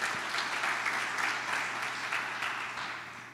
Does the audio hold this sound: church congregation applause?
yes